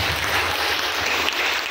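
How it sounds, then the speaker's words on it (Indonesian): Audience applause at an Indonesian public speaking and MC training session with a regional government, a steady dense patter of clapping filling the room from start to finish. "tepuk tangan dong dari Bapak."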